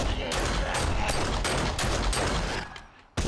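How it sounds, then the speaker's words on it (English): Pistol firing in the survival game 7 Days to Die, a string of loud, close shots in quick rhythmic succession, each crack blending into the next before a brief pause and a final shot. "Pistol does not fire as fast as the dual pistols do in Helmod"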